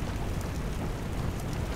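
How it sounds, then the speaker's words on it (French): Rain falling in the survival video game Soulmask, heard from indoors, a dense, steady hiss and patter of rainfall with low rumbling underneath, continuous and without talking. "Le, le bruit de la pluie à l'intérieur est excellent."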